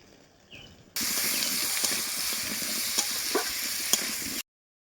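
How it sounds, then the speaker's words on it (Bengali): Tomatoes frying in hot oil with turmeric, a strong continuous sizzle that starts abruptly and holds, broken by a few scraping stirs and utensil clicks before cutting off. "টমেটোটা আমার হালকা ভাজা হয়ে গেছে"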